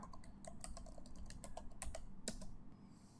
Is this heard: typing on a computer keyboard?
yes